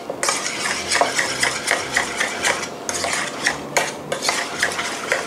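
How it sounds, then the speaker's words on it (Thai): A spoon stirs yogurt sauce mixed with chopped coriander and ginger in a bowl, giving steady repeated scraping and clinking strokes, close and fairly loud, with no talking. "แล้วก็คนครับ"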